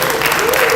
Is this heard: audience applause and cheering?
yes